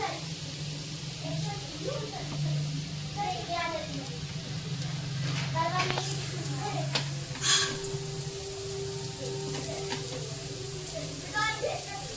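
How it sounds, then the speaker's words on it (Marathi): Coriander vadi pieces frying in oil, a steady close sizzle running throughout with occasional utensil clinks, while people talk over it. "इथं सगळ्या वड्या अशा टाकल्यात फ्राय करायला."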